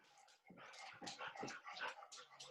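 A heavy, overweight adopted dog breathes loudly and close up, with rough, rhythmic panting and snorting bursts over two and a half seconds.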